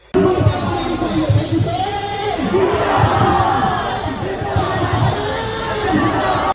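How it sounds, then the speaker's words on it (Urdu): Crowd of protesters in London chanting slogans for Pakistan and Imran Khan, a dense, steady roar of many voices with rhythmic shouted phrases throughout. "مظاہرین پاکستان کی موجودہ حکومت کے خلاف جہاں شدید نعرے بازی کرتے ہیں، وہاں پاکستان زندہ باد، عمران خان زندہ باد کے نعرے بھی لگاتے ہیں"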